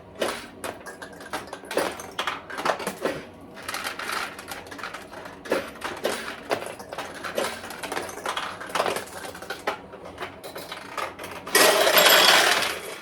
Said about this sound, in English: when you launch pachinko balls, if you notice, I push all the way down and let go.